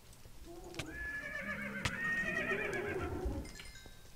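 A Minecraft horse lets out one drawn-out wavering neigh at close range, with faint clicks and a light clopping sound beneath it.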